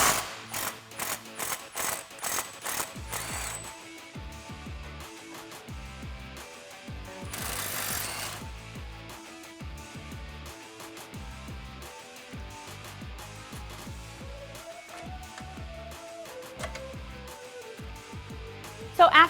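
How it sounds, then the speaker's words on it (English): A ratchet fitted with a T55 Torx bit rapidly clicks in bursts while loosening a Jeep Wrangler TJ sway bar link bolt, the close, fast ratcheting giving way to a smoother whir as the bolt spins free. "We're going to use a T55 Torx bit and an 18mm open-ended wrench."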